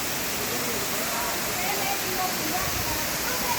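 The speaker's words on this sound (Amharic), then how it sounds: "ይሄ ላሞ ውስጥ የሚገኝ ገራሚ ፏፏቴ ነው" Roaring waterfall on the Lamo river, a dense, steady broadband rush of falling water that stays loud and unbroken throughout, close and enveloping.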